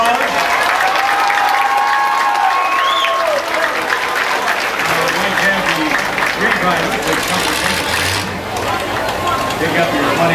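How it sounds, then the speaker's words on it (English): Loud, continuous crowd applause and cheering for drivers at an outdoor demolition derby in Columbiana County, Ohio, with a public-address voice talking over the clapping throughout. "let's give those drivers a big round of applause"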